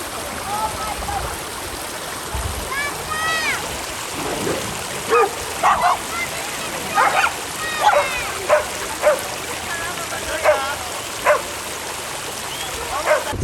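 A pack of dogs barks and yips beside a mountain hot spring stream in Albania, sharp repeated barks over a constant rushing water background.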